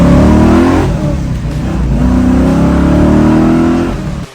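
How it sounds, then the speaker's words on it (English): A V8 Ford Mustang Shelby GT350 replica fastback with a manual five-speed gearbox revs loudly and close by, two sustained rising engine pulls separated by a brief dip, with no talk. "a good old manual V8 Fastback Mustang"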